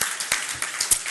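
Men in a church congregation clapping together, a brief steady burst of applause with individual sharp claps standing out.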